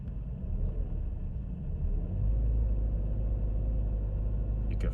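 A car engine with an evaporative emissions purge control fault runs rough as throttle is applied, a steady low rumble that swells louder about halfway through and holds, close by with no talking.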